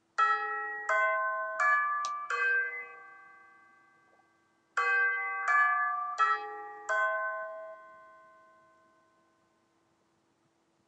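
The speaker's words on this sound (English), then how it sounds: "Why doesn't our bell sound that awesome?" A chiming doorbell in the horror game Misao plays two clear, ringing melodic phrases of four notes each, each phrase decaying slowly into silence, alone and with no speech.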